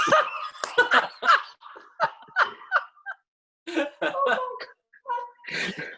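A dog barking and yelping in several quick bursts, close and lively, mixed with laughter and voices, with a short pause before more yapping.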